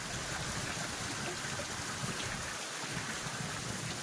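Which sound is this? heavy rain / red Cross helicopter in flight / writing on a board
heavy rain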